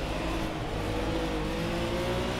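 A BMW M1 Procar racing engine in Project CARS, driven around Oschersleben in the rain, holds a steady, close, sustained drone with a slight rise in pitch and no talk.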